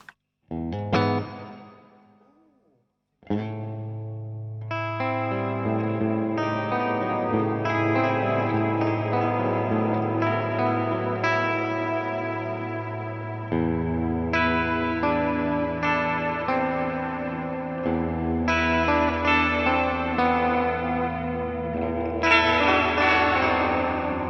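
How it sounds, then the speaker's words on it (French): Electric guitar played through a reverb effects pedal, sustained chords and ringing notes with long washy tails and echo, following a brief plucked opening and pause, loud and alone without talk. "Après, t'as la reverb."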